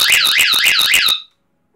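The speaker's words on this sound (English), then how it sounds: "Now we're gonna let go the full bells again." Fire alarm bells from a home fire and security system ring loudly in a fast pulsing rhythm for about a second, then cut off abruptly into silence.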